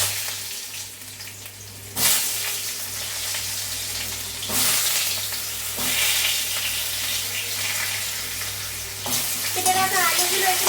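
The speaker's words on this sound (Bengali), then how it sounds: "কেটে রাখা আলুগুলো এখানে দিয়ে দিলাম।" Cut potatoes are tipped into hot oil with bay leaf and five-spice, bursting into a loud, steady sizzle, with sharp surges as more pieces go in and soft stirring scrapes.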